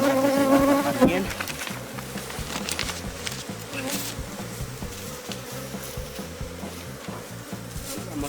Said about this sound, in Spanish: Hay demasiadas abejitas, amigos